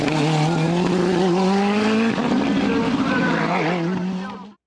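A Nova race car with a Mugen V8 engine screams past at a hill climb, its loud, sustained engine note rising steadily in pitch, then shifting through a gear and fading away close by.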